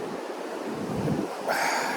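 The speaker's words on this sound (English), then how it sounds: "listen to the roar of the ocean" Ocean surf roars and washes continuously near a beachside campsite, a broad rushing swell with wind buffeting the microphone.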